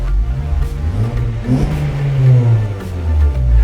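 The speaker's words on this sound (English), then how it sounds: "And the car sounds nice again" A 2013 Honda Civic Si engine idles steadily up close after an oxygen sensor replacement, a low smooth rumble with slight swells in revs, no voices.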